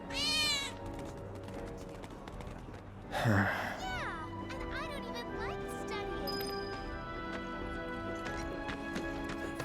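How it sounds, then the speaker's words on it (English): A cat meows in Final Fantasy VII Remake, a clear meow at the start and another cry midway, over game background music, with a character speaking. "I think one of Betty's cats might be nearby."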